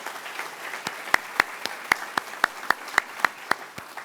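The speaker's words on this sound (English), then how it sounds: "Let's give them a round of applause." Sparse, scattered clapping from a small audience at an affordable housing summit in Leeds Grenville, roughly a dozen distinct claps ringing out at an uneven rhythm over a quiet room.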